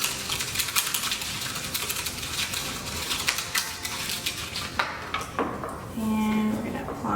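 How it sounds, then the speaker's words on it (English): A whisk clatters in a bowl of hair colour mixture with rapid, close metallic ticking and scraping, ending in a brief steady hum, while a voice talks intermittently. "use our whisk"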